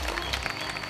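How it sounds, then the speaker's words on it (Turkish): Brief burst of studio audience applause on a Turkish game show gala night, steady even clapping with no gaps, moderately loud throughout its short span. "En başından beri dayananlara zaten kocaman bir alkış."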